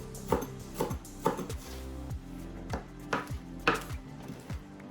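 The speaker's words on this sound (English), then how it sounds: "we're going to just cut a little bit of parsley up to sprinkle it on top" Knife chopping fresh parsley on a cutting board, a series of sharp, evenly spaced close taps about twice per second, with faint kitchen clatter beneath.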